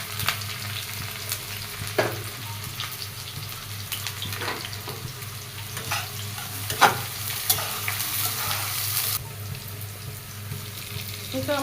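Onions sizzle in hot oil with bay leaf, garam masala and green chilies, a steady frying hiss with occasional stirring knocks and a brief watery splash, alone and close throughout.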